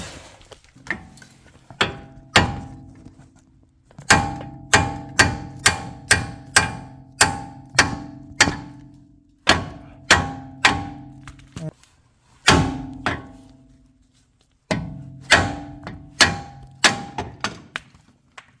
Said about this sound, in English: get a little hammer or something. Just give it a little tap.